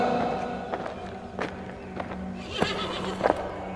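A horse whinnies at moderate distance amid faint hoof clatter and ambient noise, with a few short bursts rising over a steady background.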